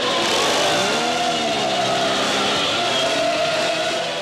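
A 1980s motorcycle roars in a sustained cascade of revving at an outdoor street-performance gathering, the engine note rising and falling continuously with loud, close, unbroken noise and no voices.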